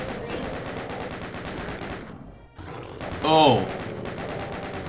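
Rapid automatic chain gun fire in the Doom video game, a dense loud rattle of shots running through most of the stretch, briefly dropping out before resuming, with a short exclaimed voice over the gunfire.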